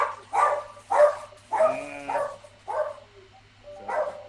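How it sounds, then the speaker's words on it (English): A dog barks in a string of six short, sharp bursts, close and fairly loud, with brief pauses between them and no talking. "my dog, Rondo"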